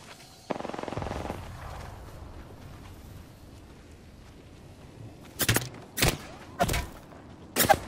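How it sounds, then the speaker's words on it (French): Gunfire in Apex Legends: after a short burst of rapid shots early on, several sharp, loud gunshots ring out one by one near the end over low game ambience. "On me tire dessus."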